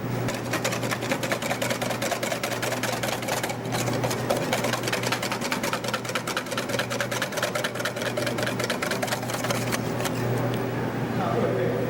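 An electric mixer whipping cream to soft peaks, a steady close mechanical whir with rapid rattling pulses that runs without pause for the whole stretch.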